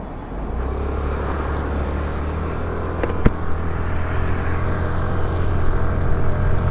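Suzuki Avenis 125 scooter ridden on a highway, a steady low engine and road-wind drone that holds continuous throughout, swelling slightly louder near the end, with one brief sharp tick midway.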